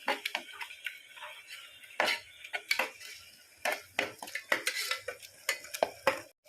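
Onions with a spoon of salt frying for mutton curry, stirred with a metal spoon: close, irregular scraping clinks against the pan repeat throughout, with little audible sizzle beneath.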